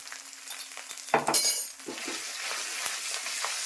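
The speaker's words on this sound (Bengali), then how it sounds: "ভাজা ভাজা হোক" Panch phoron spices fry in hot oil in a pan along with bay leaf and ginger paste, giving a loud crackling burst as they go in, then a steady sizzle with a few utensil clinks.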